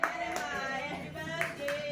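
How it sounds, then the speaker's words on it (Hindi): People clap their hands at a home birthday celebration in a steady, fast patter, with voices singing over the applause. "अरे ताली बजाओ तेज से।"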